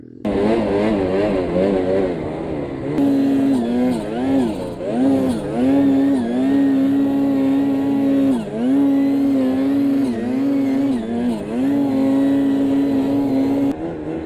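Ski-Doo snowmobile engine revving on a creek trail, a loud close buzzing drone that surges and dips in quick repeated throttle blips before holding steady.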